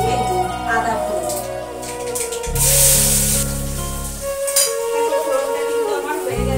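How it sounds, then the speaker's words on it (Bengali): Ginger and spices for tempering dropped into hot oil: a sudden sizzling burst rises for a couple of seconds, then a fainter crackle under kitchen clinks and a background hum. "এখানে ফোড়ন দিলাম আর দিয়ে দিচ্ছি এই যে আদা ফোড়ন।"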